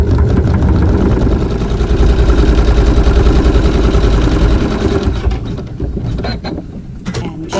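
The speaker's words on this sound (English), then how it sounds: "we will sew a tack down with the regular thread" Sewing machine stitching a tack seam with regular thread on a log cabin triangle quilt block, a steady fast mechanical whir running continuously and close up, slowing and easing off near the end.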